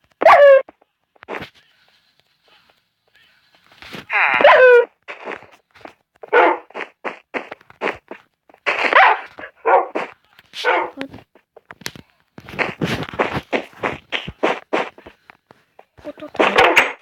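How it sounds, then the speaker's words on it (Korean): A dog at a zoo barks and yips in repeated sharp bursts, close and loud, with some whimpering, mixed with people talking nearby. "안녕 강아지야."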